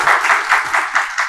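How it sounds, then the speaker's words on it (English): A class of students clapping for a classmate, a short burst of rhythmic, fairly close hand claps with several distinct beats, no talking. "Can you clap for your friend?"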